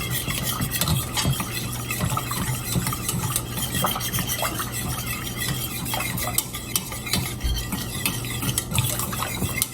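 A utensil stirs chicken broth into a thick cream of chicken soup base in a pot, making continuous close scraping and swishing around the pan edges with faint bubbling and no talk.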